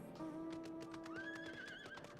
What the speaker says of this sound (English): I can ride my snow horse with my red jacket through the snow.